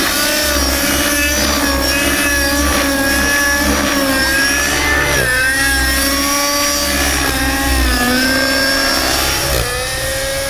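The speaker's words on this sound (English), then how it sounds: "Running my motor a little rich" The nitro engine of a Trex 600N RC helicopter runs slightly rich, a loud, continuous high-pitched whine close by with small shifts in pitch and no voices.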